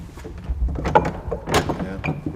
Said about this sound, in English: The team then noticed the sound of a door handle which could be used in the show.